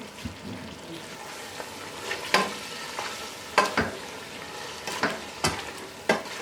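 Turmeric, salt and spices frying for beef haleem, with steady sizzling under repeated sharp scrapes and knocks of a spoon stirring through the pan at irregular intervals.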